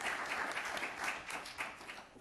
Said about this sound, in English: let us give a hand of applause to our 4 presenters